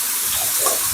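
Cold water running steadily for bathing at a remote house, a continuous close hiss of flowing, splashing water with no pauses across the short moment.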